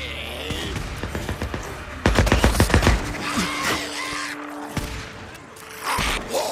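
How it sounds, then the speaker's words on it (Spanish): Gunfire in the PS5 video game Days Gone: a rapid burst of loud, close shots rattles out in quick succession, followed by scattered single bangs and lighter impacts. "He oído tiros"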